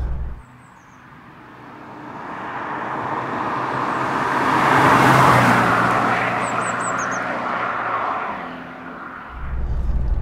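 Mini of the Radford De Ville recreation kind, engine revving while driving, a broad roar that swells steadily to a peak mid-way and eases back, loud and sustained with road noise, no talking.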